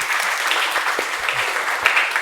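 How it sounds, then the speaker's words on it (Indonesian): A short burst of hand clapping from a small group, fairly close and continuous, with a few louder individual claps standing out. "tepuk tangan semuanya"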